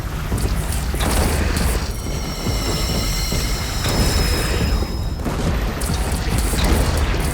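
Cannon fire booms heavily during a chaotic battle in Horizon Zero Dawn, with a dense, rumbling barrage of blasts and machine noise filling the soundscape continuously, loud and close, without any voices.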